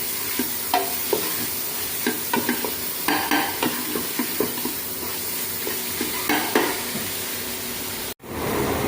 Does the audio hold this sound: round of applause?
no